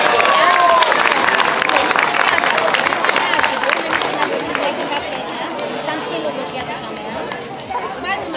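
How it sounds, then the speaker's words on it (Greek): Audience applause and cheering at a para-athletics track and field award ceremony, a broad wash of clapping mixed with crowd chatter and a whistle, loud at first and gradually easing off. "ζεστό χειροκρότημα"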